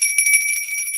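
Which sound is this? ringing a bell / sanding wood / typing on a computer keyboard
ringing a bell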